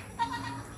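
A single goat bleats briefly on a goat farm during the rainy season, a short wavering call that sits close to the listener over a steady, quiet background.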